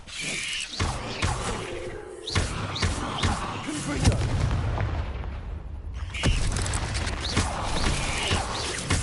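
Spell-casting in the video game Hogwarts Legacy, with repeated sharp magical blasts and thumps over a dense, busy game soundscape, loud and continuous, with a voice calling out spells.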